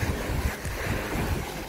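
Sea waves washing and rushing beside a boat off Samar, a steady broadband surge mixed with wind buffeting the microphone, no voices.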